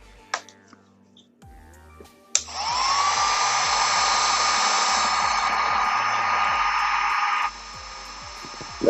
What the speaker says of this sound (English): I'm gonna put the heat gun on the glue and stick it in there.